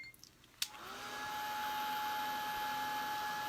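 Hair dryer blowing on a painted wooden heart: a click, then the motor spins up and settles into a steady, whining whir that continues to the end, fairly close, with no talk.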